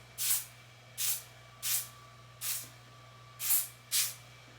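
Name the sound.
olive oil wig grip spray being sprayed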